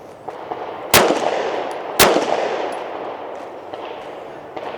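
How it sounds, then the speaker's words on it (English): Two loud, sharp shots from a Canik MC9 Prime pistol about a second apart, each followed by a ringing outdoor decay over a steady background hiss. "So let's shoot a little bit and see if the Canik takes Sig mags now."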